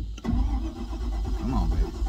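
The 5.7 Mercruiser engine of a 1987 Stingray 207XLS cuddy cabin boat cranks over cold, a steady, close low rumble lasting about two seconds with no talking.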